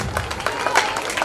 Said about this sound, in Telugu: ఆమె క్లాప్స్ కొట్టాడు